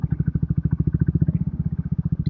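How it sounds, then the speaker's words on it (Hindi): A Honda CB350 motorcycle engine runs in a steady, fast, loud thumping idle right after starting, with regular close-up pulses throughout and no voices. "तो बाइक होगी स्टार्ट।"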